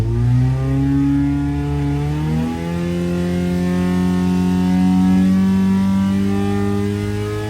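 Car engine with ARP head bolts revving on a dyno, loud and close, pitch climbing steadily as the revs rise toward about 7,000 rpm with no talk.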